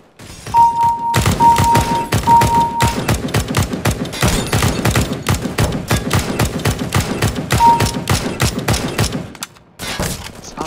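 Gunfire and explosive blasts in the video game shooter Agency - Operation Shattered Web, with a dense run of loud, rapid impacts and a grenade going off amid the barrage and a few faint beeps. It stops abruptly near the end.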